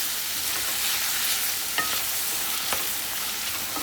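Vegetable poha being stirred and fried in a pan, a steady close sizzle with a few sharp spatula scrapes and clicks against the metal, no voices.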